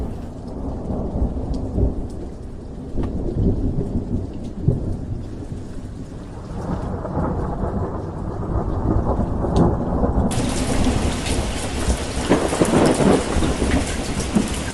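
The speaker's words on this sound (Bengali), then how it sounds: "বৃষ্টি শুরু হয়ে গেল যে।" A thunderstorm lashes a boat at sea with heavy, steady rain and rolling thunder. The downpour stays loud and close throughout and grows even heavier in the last few seconds, with no voices.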